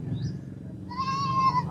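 A Rajanpuri milking goat at a goat sale lets out a single drawn-out bleat, close and clear, over low background rumble.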